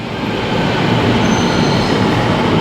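An LRT train bound for Ampang station rumbles steadily and loudly close by, a continuous broadband roar of rail travel with a faint high wheel squeal partway through and no talking.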